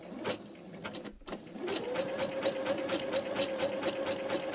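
Sewing machine running a back tack to lock a zigzag seam on a small free-motion quilting project, a steady rapid mechanical whir with a sustained tone after a brief pause, close and alone.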